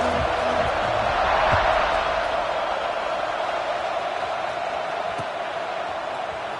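A football stadium crowd rumbles as a steady, dense roar, distant and unbroken, with a faint swell early on and no distinct cheers standing out.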